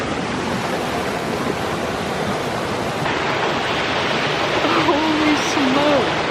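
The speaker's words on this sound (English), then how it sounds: "That water's rushing like nobody's business." Waterfall and rushing stream water on an early morning mountain hike, a loud steady broadband roar filling the whole clip, close by and continuous, with a faint whistling tone rising near the end.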